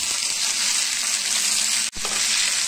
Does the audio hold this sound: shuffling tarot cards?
no